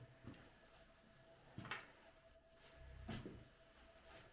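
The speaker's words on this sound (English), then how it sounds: "How smooth that door is" A heavy old cell door at Old Fort Niagara slides on its track, giving a few faint, quick scraping knocks at intervals in a quiet stone room.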